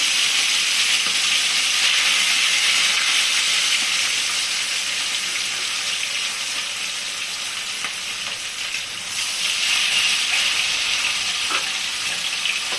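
Hilsa fish pieces frying lightly in oil, a loud continuous close-up sizzle and hiss that dips briefly before swelling again, with no talking.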